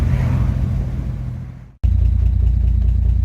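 A 1951 Chevy engine idles with a steady low rumble, cutting out abruptly for a moment midway before resuming at the same even drone.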